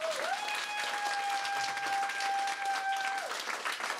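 Audience applauding at a travesty cabaret show in Brno, steady dense clapping throughout with a sustained whistle-like tone running over the middle.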